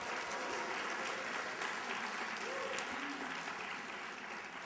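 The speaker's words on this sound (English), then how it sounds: "Give yourself another round of applause." Sustained audience applause fills a Pacific Islander year-end graduation ceremony for the class of 2010, a dense, even wash of clapping from a large crowd that holds steady throughout, with faint voices mixed underneath.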